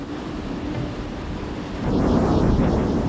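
Sea waves wash onto Midgaon beach in Sindhudurg with a steady broadband rush that swells louder partway through as a wave breaks, mixed with wind.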